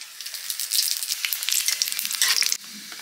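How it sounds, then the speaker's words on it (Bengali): Panch phoron, dried red chillies and bay leaf hit hot mustard oil and crackle in a loud, close sizzle with dense popping bursts that drop off abruptly to a quieter hiss. "তেল গরম হয়ে গেছে, ফোড়ন দিয়ে দিচ্ছি, শুকনো লঙ্কা"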